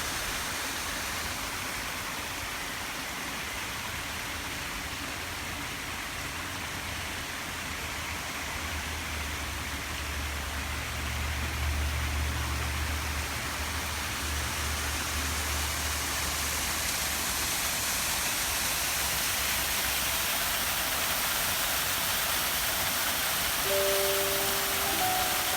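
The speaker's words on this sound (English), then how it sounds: "And isn't this a beautiful waterfall and creek?" A waterfall and creek in a cemetery pour in a steady, dense rushing roar that runs unbroken and fairly loud, with a faint low rumble partway through.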